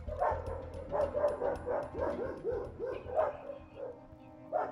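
Fighting dogs kept for training bark repeatedly in a quick, uneven series of yips and woofs, moderately distant and not very loud, with no talk over them.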